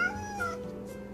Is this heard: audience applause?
no